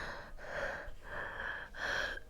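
A voice imitates slow, deep breathing into an anesthesia mask before surgery: three long, loud, close breaths with short pauses between them.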